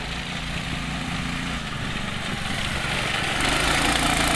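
A go-kart fitted with parts from other karts runs its small engine outdoors, a steady buzzing drone that swells slightly louder toward the end with no talking.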